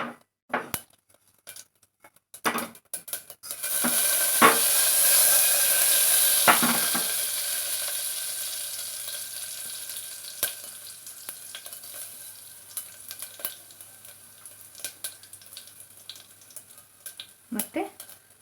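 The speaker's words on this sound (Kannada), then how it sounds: "ಇವಾಗ ಸಾಸಿವೆ ಮತ್ತು ಜೀರಿಗೆ ಹಾಕ್ಕೊಳ್ಳೋಣ." Mustard seeds and cumin dropped into a hot pan for a drumstick soup tempering burst into loud close sizzling that slowly fades, followed by sparse clinks and light stirring taps.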